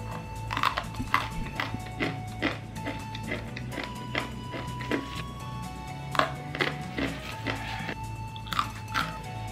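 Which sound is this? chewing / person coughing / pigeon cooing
chewing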